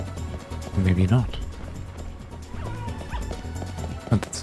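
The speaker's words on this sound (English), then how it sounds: "But that's a dog." Dog barking in the video game Lightning Returns: Final Fantasy XIII, a few short yelping barks near the start and again at the end, mixed with game music and sound effects while a person talks over it.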